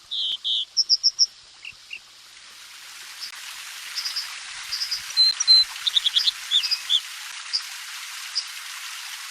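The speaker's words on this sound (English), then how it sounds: "so that was the American Dipper" American Dipper song in Central Oregon springtime: a few bright repeated whistles up front, then a long, fainter stream of rapid high chirps and trills over rushing water-like hiss, no voices.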